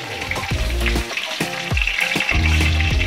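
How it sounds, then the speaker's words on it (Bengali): Paneer-stuffed pointed gourds frying lightly in oil, a close, steady crackling sizzle with occasional bursts and soft scrapes as the pieces are turned, with no talk. "পটলগুলো যত নরম হচ্ছে ভেতরে পুরটা বেরিয়ে যাওয়ার টেন্ডেন্সি রয়েছে, এই জন্য হালকা করে ভেজে নিতে হবে।"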